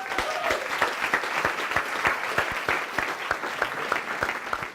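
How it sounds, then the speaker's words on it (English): A small audience claps steadily for a participant, with distinct, fairly even individual claps at moderate volume and no talking over them. "Let's give Perry a round of applause."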